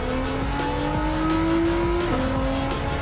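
Nissan GT-R R35 Nismo tuned past 900 hp in Gran Turismo 7, its engine droning steadily at high revs with a brief pitch dip and recovery as it accelerates, tires faintly squealing underneath, loud and close.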